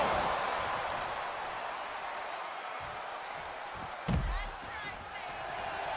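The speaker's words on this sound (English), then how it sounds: "Caught with the double axe handle." A double axe handle strike lands in the WWE 2K26 wrestling video game, one sharp slam partway through over a low, steady arena crowd murmur.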